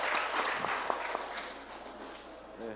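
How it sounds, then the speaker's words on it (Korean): Scattered, modest applause from a seminar audience, a few sharp claps over a soft clatter that fades toward the end, with a voice speaking briefly at the close. "박수 한번 쳐드립시다."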